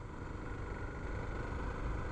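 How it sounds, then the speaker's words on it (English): A Suzuki DR650 motorcycle engine gives a steady, rough drone throughout at moderate distance, rattling at certain RPMs, with a constant low rumble and no talking. "Sounds horrendous, this engine, man. At certain RPMs it just rattles."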